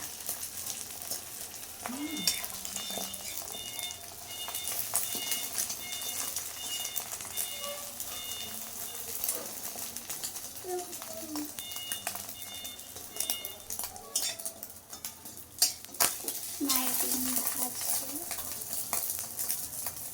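An egg fries in a pan and is flipped over with a spatula. A soft, steady sizzle runs throughout, with scattered scraping taps and a voice talking over it at times.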